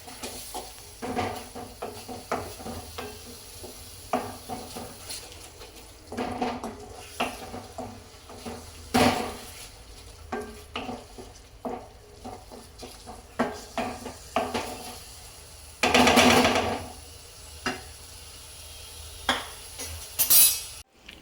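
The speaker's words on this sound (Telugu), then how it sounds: "వేసుకొని మంచిగా కలుపుకుంటూ ఆయిల్ పైకి వచ్చే వరకు మనం ఫ్రై చేసుకోవాలి" Masala with chilli powder fries in oil in a pan for a spiced eggplant curry while a spoon stirs it. Irregular scraping and clanking strokes repeat throughout over a soft, low frying sizzle.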